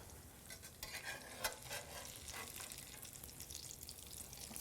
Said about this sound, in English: Oh, listen to those fritters. They are frying.